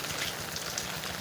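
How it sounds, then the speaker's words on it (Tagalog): Heavy rain pours down in a dense, continuous hiss, steady and close, with no voices. "Lakas yung ulan."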